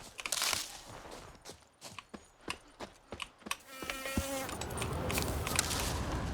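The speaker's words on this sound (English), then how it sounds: "I can hear flies buzzing." Insect buzzing, like flies droning, in the video game Witcher 3, a continuous hum over in-game ambience with a run of rhythmic footstep-like thuds.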